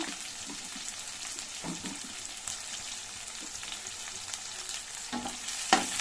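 Mustard seeds, onions and green chillies sizzle steadily in hot oil for a Telugu tomato curry, a constant close hiss with a few louder crackles and stirring scrapes near the end.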